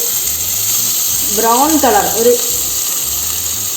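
Finely chopped onion frying in oil in a pan, with a steady bright sizzle running throughout while a voice speaks over it.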